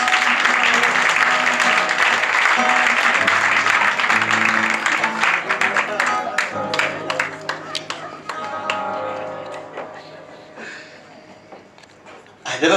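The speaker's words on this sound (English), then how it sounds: "A warm round of applause, please." An audience at a live mentalist stage show breaks into loud, sustained applause, dense clapping that gradually thins and fades toward the end before a brief final burst.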